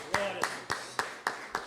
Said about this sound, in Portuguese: Uma salva de palmas ao Senhor Jesus Cristo.